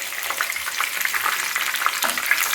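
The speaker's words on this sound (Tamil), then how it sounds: "அடுத்த ஸ்லோவில் வச்சு பொறுமையாக நம்ம இதை வறுத்தெடுக்கணும்" Chicken drumsticks fry slowly in hot oil, giving a steady, close crackling sizzle with scattered pops and no talking.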